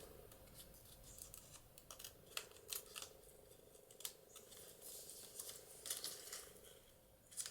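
Scissors snip through paper for a papercraft project, a run of quiet, crisp cuts and clicks at irregular intervals, close by with no talk.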